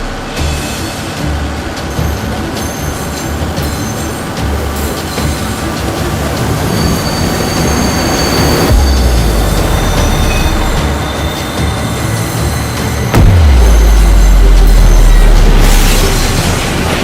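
Trains rumble past loudly with rattling wheels and clacking rails, metal screeching in bursts, and the rolling din building toward the end.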